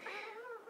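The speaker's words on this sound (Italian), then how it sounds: "Questi sono i gatti che chiedono cibo." Cats meow insistently for food, a single drawn-out plaintive meow rising then falling, close and clear with no talk.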